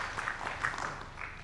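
Scattered clapping from a small audience at a community gathering on digital skills training for youth, women and people with disabilities, soft and brief with a mild swell around the middle.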